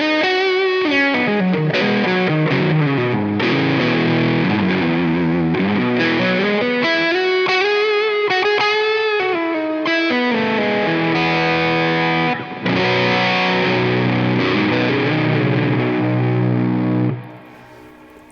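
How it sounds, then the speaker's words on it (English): An electric guitar, converted from standard scale to baritone, plays through a Zen Drive overdrive pedal, a continuous run of smooth, saturated, slightly muddy distorted chords and notes, with no talking. "So like here's more of like a Zen drive sound."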